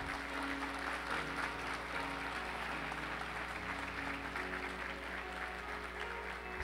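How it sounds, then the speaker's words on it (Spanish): A church congregation applauds in steady, even clapping that fills the room at a faint, distant level and holds without pause. "Dele un aplauso entonces a Él."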